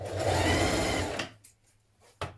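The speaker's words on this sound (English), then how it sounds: "you're going to do another line of stitching close to it. Now this can be another straight stitch or it can be a zigzag stitch if you wish" A sewing machine runs a second line of stitching along a hoodie seam, a loud steady whirring for about a second before stopping, followed by a few soft handling clicks.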